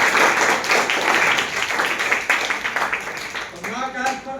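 A Hindi class claps their hands together in a dense, steady burst of clapping that fills the room, with voices mixed in underneath.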